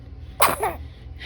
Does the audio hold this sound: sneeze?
yes